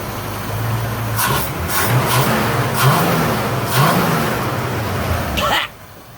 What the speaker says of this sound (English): here's a video of me actually after I got the car running for the first time.